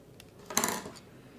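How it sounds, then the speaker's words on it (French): One quick scissor snip cuts crochet yarn, a brief, faint metallic click in an otherwise quiet moment. "Je vais couper le fil"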